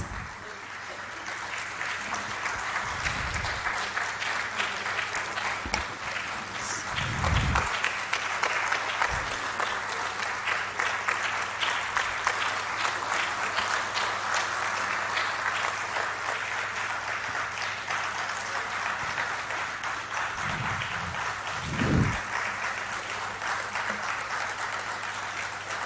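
Sustained applause from a large audience at a university felicitation function, dense and even clapping that carries on for the whole stretch with a few low thumps underneath.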